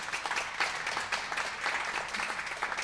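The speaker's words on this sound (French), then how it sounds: "Je crois qu'on peut les applaudir." Audience applause at the opening ceremony of a mental-health event, a steady, moderately distant patter of many hands clapping throughout without voices.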